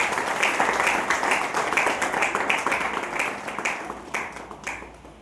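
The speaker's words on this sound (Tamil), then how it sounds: "இங்கு வந்த அனைத்து குழந்தைகளையும் ஆனந்த கரகோஷம் எழுப்பி நாம் வரவேற்போம்." Joyful applause from an assembled audience welcoming children to a devotional arts programme, a steady dense wash of many hands clapping throughout, fairly close and even, tapering slightly near the end.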